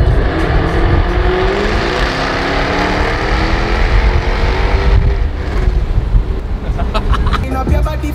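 A car engine revs hard beneath a bridge in Dubai, a loud, sustained roar with rising and falling engine tones echoing under the structure, and faint clicks toward the end.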